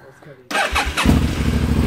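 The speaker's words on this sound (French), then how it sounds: "je vais allumer la moto" A motorcycle engine fitted with a Scorpion Red Power exhaust cranks with a few quick bursts, then catches and settles into a steady, close, throbbing idle.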